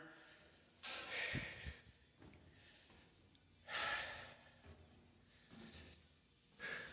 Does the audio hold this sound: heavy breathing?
yes